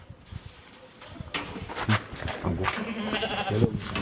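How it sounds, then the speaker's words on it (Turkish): A goat bleats a few times at close range on a village farm amid rustling and faint background voices outdoors. "Keçi keçi."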